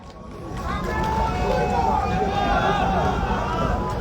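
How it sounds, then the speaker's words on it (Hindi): A crowd at a protest rally over paper leak cases at Jaipur's Shaheed Smarak applauds. Dense, continuous clapping rises after a brief quiet start and stays loud and steady, with crowd noise mixed in. "एक बार जोरदार तालियों के साथ उनका हौसला अफजाई।"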